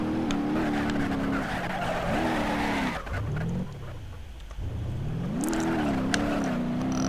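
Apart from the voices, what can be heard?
car drifting with tire squeal in BeamNG.drive video game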